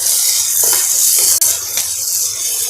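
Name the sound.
stirring vegetables with tomato and black pepper in a pan for upma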